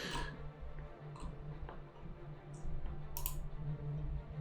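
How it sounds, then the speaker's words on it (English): Computer keyboard typing during a coding session, heard as sparse, light clicks and ticks scattered over a steady low hum, fairly quiet and close to the microphone. "my typing is terrible this morning"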